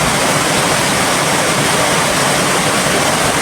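Heavy downpour with floodwater rushing past a house during a storm, a loud, constant roaring hiss with no letup and no voices.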